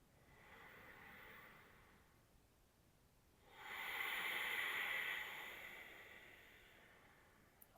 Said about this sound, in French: je t'invite à prendre 3 respirations très profondes